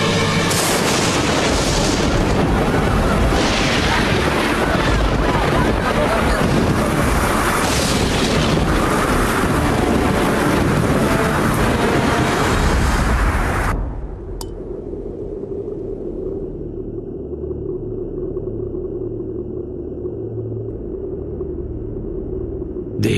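Storm wind in an animated devotional tale of Krishna and Vrindavan, a dense roaring rumble of wind and thunder-like booms that runs loud and continuous for about fourteen seconds before cutting abruptly to a low, quieter hum.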